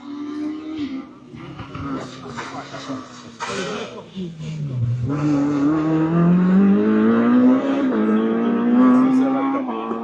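A Peugeot 106 rally car on a special stage of the Rallye Lisieux Normandie approaches and passes with a rising, then falling engine note that swells loud as it goes by, while spectators talk nearby.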